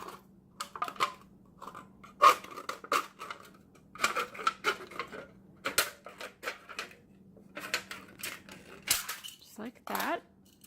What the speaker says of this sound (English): we just want to cut the flat part of the can out